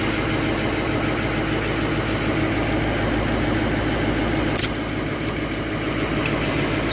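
Diesel truck engine idling steadily just after start-up, a loud, continuous close-up rumble with a faint knocking texture and a few brief clicks, no talk.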